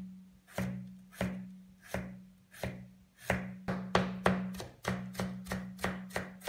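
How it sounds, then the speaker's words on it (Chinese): Knife chopping scallions and ginger on a cutting board: steady, evenly spaced sharp chops, close and clear, speeding into a quicker rhythm toward the end, with no voices. "我们来切一些小葱， 再切一些姜末"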